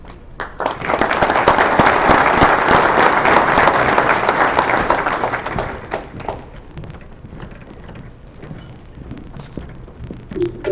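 Audience applause fills a sports awards ceremony for high school prep athletes, loud and sustained for about six seconds before thinning into scattered claps and room noise.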